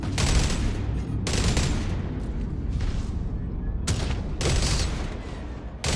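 Ship-mounted guns firing in the Jump Ship space video game: heavy rumbling volleys in several bursts, loud and dense, while a voice talks briefly.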